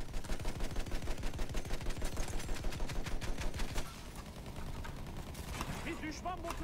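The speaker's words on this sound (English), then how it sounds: "now every piece of infantry is shooting at me right now" Infantry gunfire in the Battlefield 1 video game, a dense, rapid clatter of overlapping shots for about four seconds, then easing into a quieter, more scattered background of battle noise.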